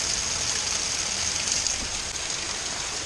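Steady rain falls outside a porch on a wet day, a continuous, even hiss of drops that holds at the same level throughout with no voices.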